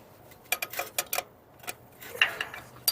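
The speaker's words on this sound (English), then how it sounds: "13 millimeter wrench is working" A 13 millimeter wrench working a starter motor bolt on a Ford F-250 makes faint, irregular metallic clicks and ticks in quick bursts against a quiet background.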